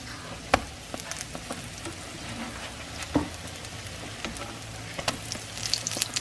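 Southern pancakes fry in oil in a pan with a steady crackling sizzle, broken by a few sharper pops and scrapes, with no one talking.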